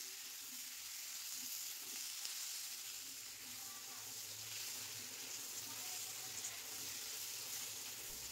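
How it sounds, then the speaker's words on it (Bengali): Green beans frying in oil with salt, Kashmiri chilli powder and turmeric make a steady, close sizzle, with faint stirring scrapes underneath throughout. "ধৈর্য ধরে ভালো করে নাড়াচাড়া করে শিমগুলো ভেজে নিতে হবে।"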